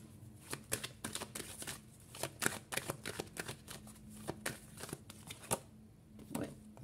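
Tarot cards riffled and drawn from a deck, a rapid run of crisp papery flicks and snaps that keeps going with short pauses, close and fairly quiet.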